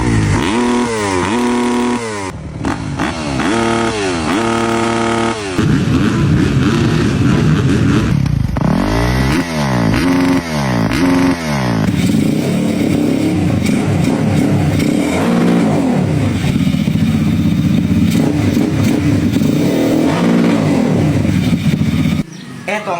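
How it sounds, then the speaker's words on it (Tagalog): A motorcycle fitted with an S2R Racing CDI revs hard and repeatedly up close, with sharp rising throttle blips and a rough, buzzing engine note that continues loudly throughout. "Gusto mo magtunog production ng iyong motor?"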